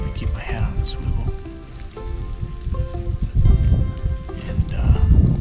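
Steady rain falls on woodland cover in Kansas during a public-land elk bowhunt, a constant close patter and hiss with low rumbling underneath and a few faint tonal sounds drifting through.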